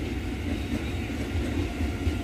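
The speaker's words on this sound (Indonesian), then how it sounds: "Ini KRL nih, penuh." A crowded KRL commuter train rolls past at close range, a steady loud rumble of wheels and carriages with a continuous low roar and no break across the whole span.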